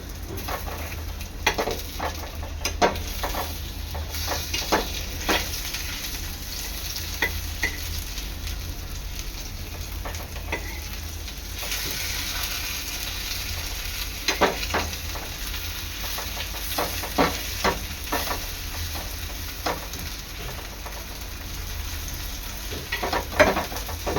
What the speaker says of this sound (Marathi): अशा प्रकारे दोन्ही साईडनी आपले केळ्याचे काप कुरकुरीत तळून घ्यायचे आहेत